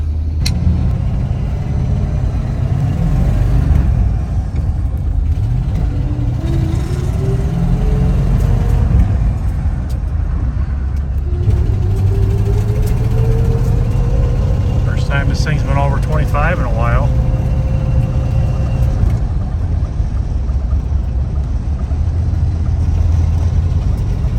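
A 1984 Chevrolet Suburban engine drones loudly and steadily while it drives along a road, its rising whine climbing in pitch as it accelerates, with a brief squeal near the middle and constant low rumble throughout.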